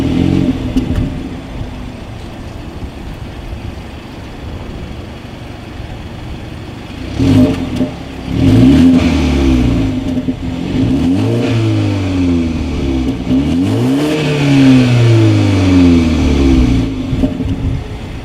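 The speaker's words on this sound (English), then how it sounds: "As always, here is that exhaust clip." A 2019 BMW 330i engine idles, then revs hard several times, the exhaust note rising and falling in long sweeping climbs, loud and close with no talking.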